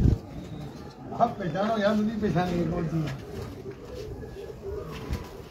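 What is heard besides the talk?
pigeons cooing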